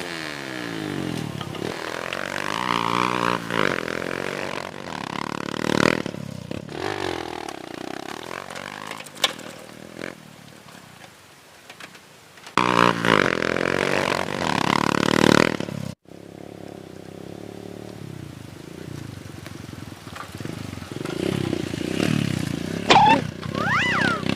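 Racing motorcycle engine revving in bursts, pitch climbing and falling repeatedly, with pauses and a few sharp knocks between surges.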